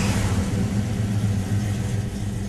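Engine of a 1969 Mustang Mark 1 with a Hurst shifter, revving in a steady low rumble, loud and close, holding a constant throaty drone for the whole moment with no voices.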